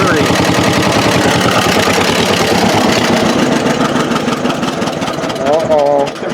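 A John Deere Model M tractor engine running on battery power: a loud, close, steady rhythmic idle that falters near the end, with a voice briefly heard.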